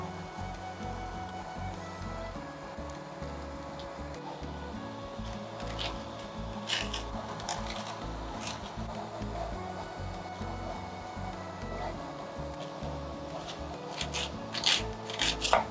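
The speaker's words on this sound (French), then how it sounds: "Et pour chaque courgette, on va venir les creuser." Zucchini being hollowed out with a utensil during meal prep for stuffed courgettes: a steady close scraping and rasping with irregular soft scratches and small knocks, fairly quiet and continuous, no talking.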